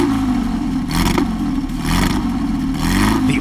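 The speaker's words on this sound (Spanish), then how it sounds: "Este es el Spider. The sound of the Spider is unmistakable." A Porsche 356 Spider with an all-aluminium engine and four-speed synchronized gearbox revs loudly and close, three rising bursts separated by brief drops, with a raspy, clattering mechanical edge and no voices.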